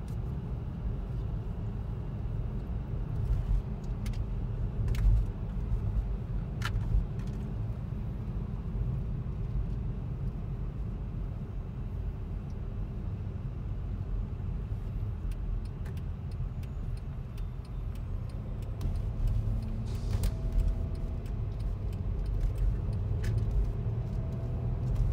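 A car drives through a hillside neighborhood in Henderson, Nevada: a steady, continuous engine and road rumble throughout with a few faint ticks and clicks, no talking.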